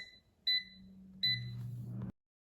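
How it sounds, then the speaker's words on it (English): Air fryer beeps twice with short electronic tones after finishing a batch of stuffed mushrooms at 390 degrees Fahrenheit, clear and close, with a low fan hum underneath that cuts off just after. "Now the air fryer is done cooking"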